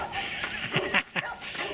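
A pack of several dogs barks in short, sharp bursts from somewhere behind, moderately loud and a little distant, along a Pennsylvania backpacking trail.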